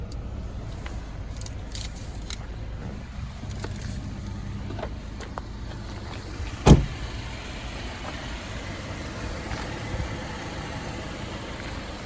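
A 2018 Jeep Wrangler Unlimited Sahara 4-door idles with a low, even engine rumble, with one sharp click or thump partway through and no talk.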